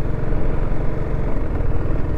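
A motorbike rolls along a rough, broken mountain road between big hills on the way to Kumbhe Waterfall, its engine a steady, loud, close rumble that runs the whole time with no speech.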